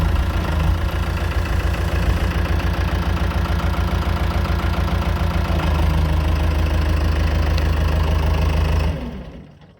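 A tractor engine idles close by next to a Changfa CF866 AC cabin harvester, giving a loud, steady low knocking throb that runs for about nine seconds and then fades out abruptly.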